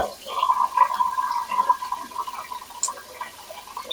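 Water runs steadily from a tap while hands are washed clean of chicken grease in a home kitchen, a continuous close splashing stream lasting throughout.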